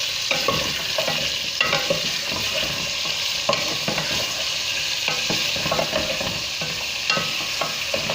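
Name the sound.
chicken with ginger and garlic frying on high flame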